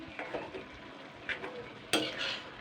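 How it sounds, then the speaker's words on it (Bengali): Bottle gourd lentils cooked without oil or water being stirred in a pan, a few soft scrapes and one sharper clink of a utensil against the pan over a faint background. "তো এবার আমি এটাকে ভালো করে কিন্তু নেড়ে নেবো"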